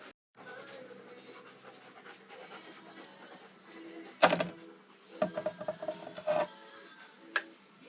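A big 13-month-old puppy pants steadily and close up in a quiet room, with a few sharper knocks and brief clattering noises partway through.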